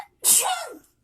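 A single sharp sneeze bursts out after a brief silence, close and loud, then fades quickly with a breathy tail.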